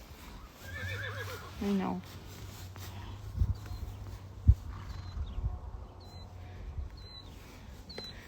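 Horses neigh in holding pens awaiting shipment to slaughter: one loud, close whinny with trembling harmonics near the start, a steady low hum underneath, scattered thuds and knocks, while a person talks.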